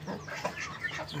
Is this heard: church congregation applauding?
no